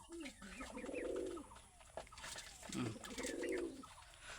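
Domestic pigeons at a pigeon farm give two long, low, rolling coos, one near the start and one near the end, with softer bird calls and a steady background hum between them.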